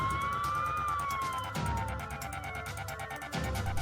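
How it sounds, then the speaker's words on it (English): Police sirens wail in the distance, rising and falling tones over a steady background of traffic noise. "I heard police sirens"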